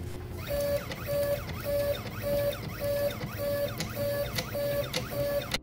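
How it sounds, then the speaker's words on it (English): An automatic coil winding machine runs in a steady rhythm, its motor stopping and starting about nine times with short whirring pulses over a constant mechanical hum, moderately quiet and close. "The fact that the motor is stopping and starting is causing the wire to go slack between turns"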